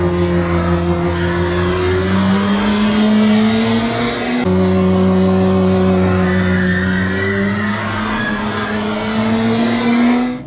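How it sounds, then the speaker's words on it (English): Drag car launching down a quarter-mile strip roars close and loud, its engine note rising steadily in pitch as it accelerates, then resetting for a second climbing pull. "so cool to see how the car launches in slow motion"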